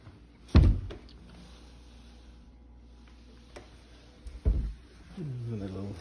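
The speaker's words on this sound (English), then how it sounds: "Those drawers that slide out." Kitchen pantry drawers slide out and bump, with a sharp knock near the start and another clatter past the middle, then a faint rolling glide; the room is otherwise quiet.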